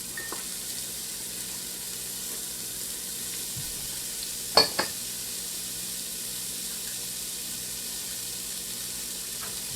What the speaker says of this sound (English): And then we just saute these until they are soft.